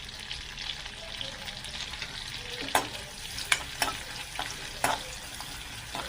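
Cumin, red chili and garlic go into butter in a hot pan, a soft steady sizzle broken by several sharp crackles and scrapes of stirring, close by and quiet, with no talking.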